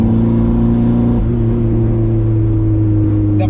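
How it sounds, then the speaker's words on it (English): Turbocharged car with a 2.5-inch straight pipe exhaust and blow-off valve, a loud steady engine drone with a slight shift in pitch partway through, close and continuous, with a brief hiss near the end. "The blow-off noise is absolutely obnoxious"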